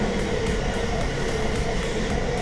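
A passing train heard from inside a kitchen gives a steady, fairly loud broadband rumble with no pauses across the short stretch.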